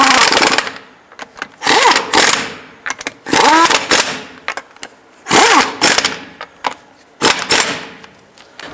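Lug nuts are snugged down on a 2005–2010 Jeep Grand Cherokee wheel, heard as about eight loud, close bursts of a whirring power tool separated by short quiet gaps.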